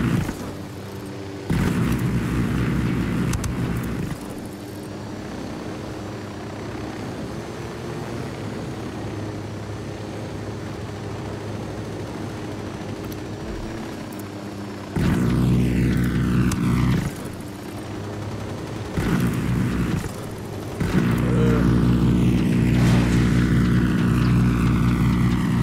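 Helicopter in the video game Ghost Recon Wildlands, a steady rotor and engine drone running throughout, with several sudden louder bursts like impacts or explosions breaking in near the middle and end.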